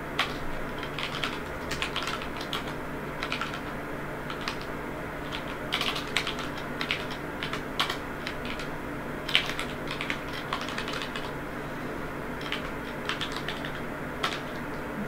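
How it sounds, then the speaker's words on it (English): Steady typing on a computer keyboard while playing the game TIS-100, close and continuous with irregular clusters of key clicks and a few sharper taps over a faint background hum. "I can actually navigate this with the keyboard too"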